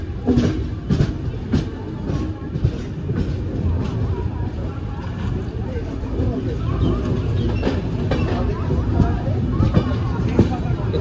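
The Howrah–SMVD Duronto Express 12245 rumbles at Bhubaneswar station with a steady rolling clatter of rail cars, mixed with platform crowd babble and nearby talk.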